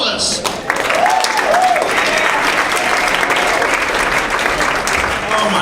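A Dallas Hyena's Comedy Club crowd bursts into loud, sustained applause for comedian Lawrence Rosales, dense clapping with a few whoops, while a voice talks briefly at the start.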